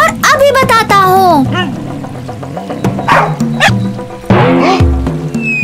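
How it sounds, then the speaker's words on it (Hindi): A cartoon dog growls and lets out a run of yappy, high-pitched barks in an animated Hindi children's story, loud and close, with whimpering tones mixed in. "मैं इन पर थोड़ा गुर्राता और भौंकता हूँ"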